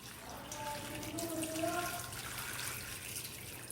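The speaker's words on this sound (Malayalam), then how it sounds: "അതിലേക്ക് നമുക്ക് വെള്ളം ഒഴിച്ചു കൊടുക്കാം" Water is poured over washed potato strips in a bowl, a steady close splashing rush with a faint rising tone as the vessel fills.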